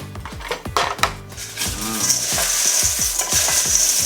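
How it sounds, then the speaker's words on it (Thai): Roasted peanuts being stirred into caramel-coated cornflakes, a run of dry crunchy scrapes and rustles with light clinks against the bowl, repeated in a steady stirring rhythm, close and fairly loud. "ถั่วลิสงอันนี้ก็อบไปแล้วนะครับ ก็เหลืออยู่นิดหน่อยนะครับ ก็ ลองผสมดูนะครับ"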